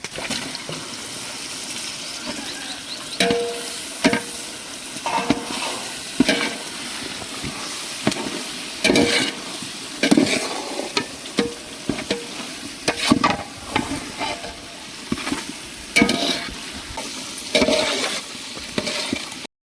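Chicken fries in a pan for biryani, a steady sizzle broken by repeated scraping, clattering stirs at an irregular rhythm, close and fairly loud.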